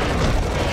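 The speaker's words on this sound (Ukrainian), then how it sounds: "З гармати стріляю раз, два, три, чотири." Booming cannon shots and explosions from the first-person shooter Serious Sam fill this short stretch, loud, dense and continuous with heavy low-end rumble and no talk.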